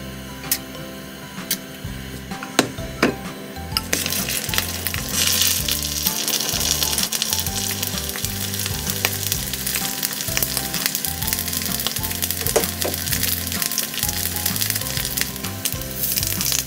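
Costco SIWIN sausages, Sweet & Hot variety, fry in a pan with a loud, steady sizzle and scattered crackling pops that continue throughout, with no voices.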